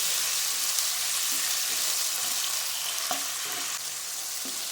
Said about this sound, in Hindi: इसको थोड़ा सा हम फ्राई करेंगे, इतना कि इसका कलर फिश के वाइट हो जाए।